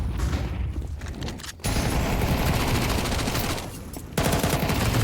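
Sustained rapid gunfire from a Counter-Strike 2 professional match on the Ancient map, with dense continuous bursts filling the clip, a brief lull just before the two-second mark and another dip near four seconds before the firing resumes loudly.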